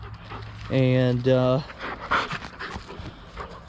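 Dogs that were shut in all day whine in a short, high-pitched burst and then pant quickly and rhythmically at close range, while a person talks briefly nearby.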